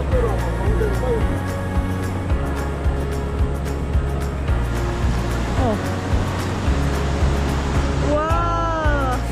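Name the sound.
waterfall roaring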